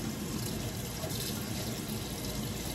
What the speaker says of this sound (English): I'm gonna take our chicken thighs and rinse these bad boys off.